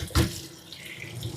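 Cooked chicken feet and gizzards are poured from a cast iron pan with one short wet splash and slosh, followed by faint dripping and trickling.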